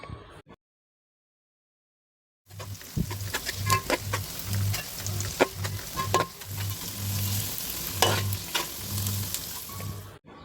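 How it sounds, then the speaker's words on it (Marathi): Onions sauté with a little salt in a pan for a Konkani stuffed crab curry, giving a steady soft sizzle with occasional stirring clicks and a low rhythmic pulse, fairly quiet and heard alone after a brief silent gap. "कांदा गोल्डन ब्राऊन होईपर्यंत आपण परतवून घेऊयात."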